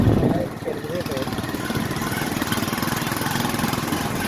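A steady mid-pitched motorcycle engine drone runs throughout, close and continuous, with voices talking over it.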